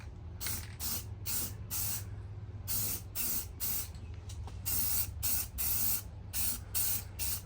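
An aerosol paint can hisses in short and longer bursts close up, coating a wheel of a Terminator Cobra drift car during prep for Evergreen Raceway, with a low background hum between sprays.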